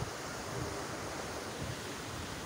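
A river rushes under a cable-stayed bridge near Muzaffarabad, a steady, dense broadband roar of flowing water with no voices.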